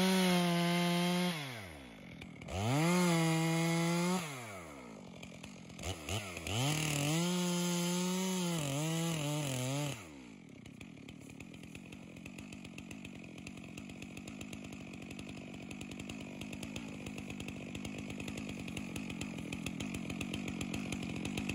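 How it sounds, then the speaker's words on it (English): A chainsaw cuts down trees. It revs hard in rising and falling bursts for the first ten seconds, then settles into a steady, fainter idle drone. No one speaks. "You can cut the trees down however you want."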